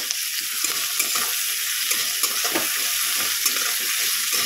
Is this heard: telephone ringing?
no